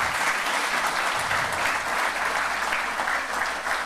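An audience claps continuously in dense, sustained applause, loud and close, with no break throughout, at the end of an economics talk.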